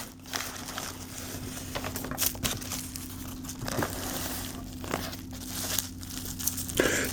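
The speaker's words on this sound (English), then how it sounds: "Encased in bubble wrap." Bubble wrap around a prototype PEZ dispenser is crinkled and rustled close up, with scattered tearing and crackling sounds over a low steady hum.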